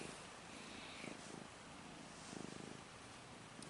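A cat purrs faintly and steadily nearby in a quiet room, a soft continuous rumble with slight rhythmic swells and no talk.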